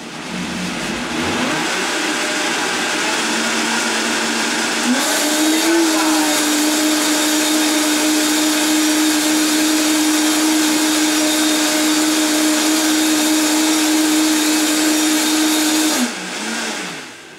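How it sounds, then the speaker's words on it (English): A blender whirring through a coconut green smoothie, loud and close, spinning up with a brief rise in pitch and then holding one steady high whine for about eleven seconds before it cuts off. "And blend that up."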